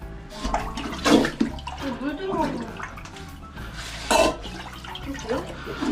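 A plunger is pushed and pulled in a clogged toilet, making irregular wet sloshing and gurgling bursts of water, close by, with people talking over it.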